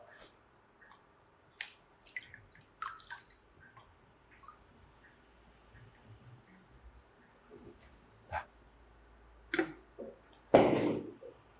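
Soaked aquarium filter media (Marine Cost bio stack) is lifted out of water, giving scattered drips and small splashes, sparse and close, ending in a brief louder splash, with no speech.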